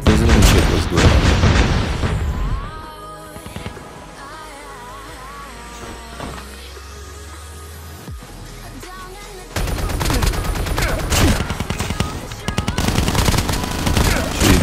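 Loud bursts of automatic fire from an MSMC submachine gun in Call of Duty, both hip-fired and aimed, come at the start and again at the end, with a quieter stretch between them where a voice speaks over game sounds.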